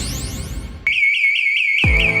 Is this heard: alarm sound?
yes